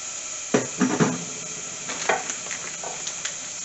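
Garlic, ginger and cumin seeds fry in a pan, giving a soft, steady sizzle with a few brief clatters and scrapes close by.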